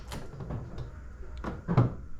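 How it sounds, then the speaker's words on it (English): Central locking on a Mercedes W124 engages after a fuse replacement, giving a few soft mechanical clunks and thuds from the door locks, with the loudest actuation near the end. "Okay, everything is locking."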